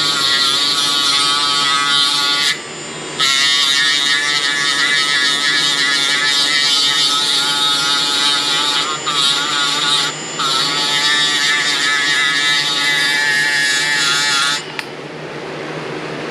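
A high-pitched rotary tool whines steadily while polishing an aluminum part on an old Craftsman mower, holding a loud, continuous tone broken by a few brief dips as the tool eases off.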